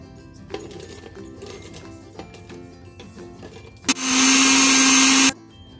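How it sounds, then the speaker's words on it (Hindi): An electric kitchen grinder blending garlic, green chillies and yogurt starts up after some faint clatter and roars loud and steady with a high whine for about a second and a half before stopping. "अब इनको मैं 1/2 कप दही के साथ जो है वो ग्राइंड कर लूंगी।"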